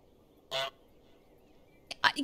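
Two bursts of honking from the goose in Untitled Goose Game, a video game: one loud, nasal honk, a pause, then a pair of quick honks close together, clear against near silence.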